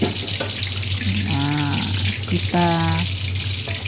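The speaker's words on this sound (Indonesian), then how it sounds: "Kita goreng di minyak panas tapi apinya kecil" Beef for gohiong fries in hot oil over a low-to-medium flame, giving a steady, soft sizzle and hiss beneath a voice speaking over it.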